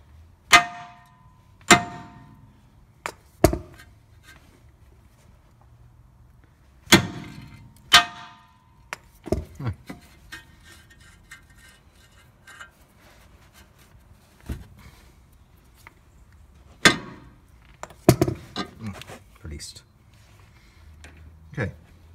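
Sharp metallic hammer blows strike an Audi TT front suspension ball joint, landing as about a dozen separate loud clangs spaced irregularly, with softer knocks and clinks between them and a person talking now and then.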